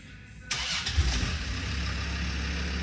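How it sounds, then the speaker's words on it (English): A car engine cranks and fires with a sudden burst, then settles into a steady, moderately loud idle that holds to the end. "start the car"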